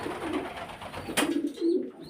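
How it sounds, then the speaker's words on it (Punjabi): Pigeons being fed grain coo softly nearby, with a couple of low, throaty calls over faint background noise. "ਬੱਚਿਆਂ ਨੂੰ ਦਾਣਾ ਕਬੂਤਰਾਂ ਨੂੰ ਦਾਣਾ ਪਾਣੀ ਪਾ ਕੇ"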